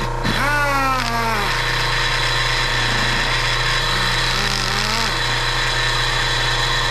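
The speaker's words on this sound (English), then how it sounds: "You hear that motor pop, pop," An air-powered die grinder with a carbide burr runs loudly and continuously, its pitch sweeping and dropping as the motor stalls and pops under load.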